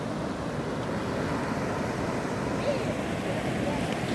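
Broad, steady rushing of the Mayurakshi river in monsoon flood near Sainthia town, a dense continuous wash of flowing water with wind noise on the microphone, no pauses and no talk.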